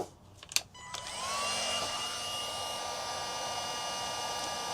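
Heat gun shrinking heat-shrink tubing on trailer wiring: a few faint clicks and taps, then a steady airy blowing whir with a rising whine settles in and holds at moderate level, no talk.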